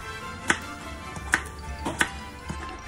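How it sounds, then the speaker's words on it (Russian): A knife chops a peeled carrot into small cubes on a cutting board, a few sharp, close knocks at an uneven pace against a quiet kitchen background. "нарезаю ее сначала на длинные соломки, а потом на мелкие-мелкие кубики."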